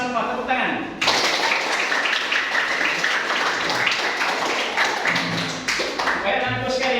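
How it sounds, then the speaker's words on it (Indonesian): A class of students claps and cheers in a classroom, with loud, dense applause that lasts several seconds. A teacher's voice is heard briefly before it starts and again as it ends. "Anda hebat semua, tepuk tangan."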